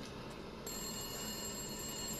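Telephone ringing in the video game Resident Evil Village, a sustained electronic ring that comes in abruptly over a low, steady background hum.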